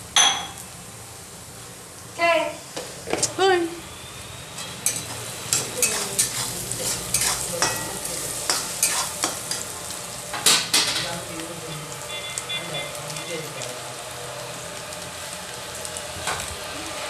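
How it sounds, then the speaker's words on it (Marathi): Onions, chilies, mustard seeds, cumin and peanuts stir-fry in a pan for Maharashtrian kanda poha, a steady close sizzle broken by scraping spoon strokes and occasional clinks against the metal. "कांदा, मिरच्या, मोहरी, जिरे, शेंगदाणे एकत्र छान परतून घ्यायचे."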